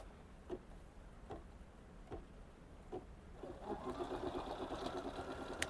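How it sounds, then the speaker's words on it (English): A Bernina 790 Pro sewing machine embroidering, starting with slow, evenly spaced single stitch clicks and then speeding into a faster, continuous mechanical chatter close by. "All right, now it is embroidering."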